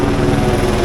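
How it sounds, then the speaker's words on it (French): A helicopter passes overhead during the 24 Hours of Le Mans centenary parade, its loud, close rotor throb forming a brief, steady pulsing beat. "Là, on a un hélico qui est en train de passer au-dessus de nous."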